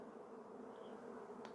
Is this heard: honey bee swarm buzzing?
yes